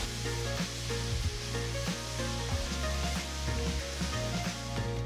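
Vegetables with spring onion greens stir-frying over a high flame give off a loud, continuous sizzle with scraping stir strokes, close and unbroken, with no voices.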